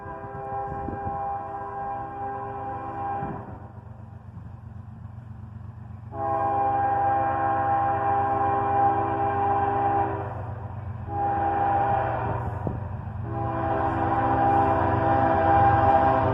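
A CSX freight train led by an ES44DC and a pair of GP38-3s, six locomotives in all, rumbles steadily past while its horn sounds in several long blasts.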